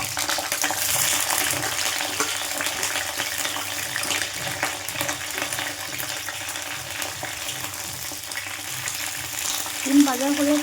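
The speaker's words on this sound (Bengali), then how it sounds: "কড়াইতে তেল দিয়া শিমটা ভাজা করবো।" Flat beans frying in oil in a wok give a continuous close sizzle with intermittent stirring scrapes, and a brief clink near the end.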